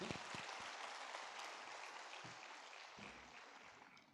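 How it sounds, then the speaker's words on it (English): Applause from a convocation ceremony audience, a soft steady wash of many hands clapping that stays even and fairly faint throughout, with no voices standing out. "Let's have another round of applause."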